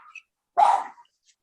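A dog gives a single close, loud bark indoors, followed by a faint trailing yip and near silence.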